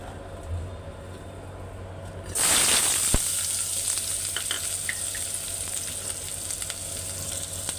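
Curry frying in hot oil in a pan, with potatoes cut into long, large pieces: a sudden loud sizzle bursts in partway through and then holds as a steady, bright crackling hiss, close and alone without talk.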